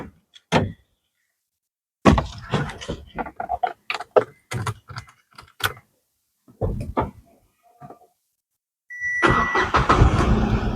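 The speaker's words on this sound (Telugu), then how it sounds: "స్టార్ట్ చేసి ఇంజిన్ రూమ్ చూపిస్తాను" A 2017 Renault Kwid RXT car, about 6,500 km on it, fires up on a single self-start near the end after door clunks and clicks, its engine settling into a steady close idle with no talk.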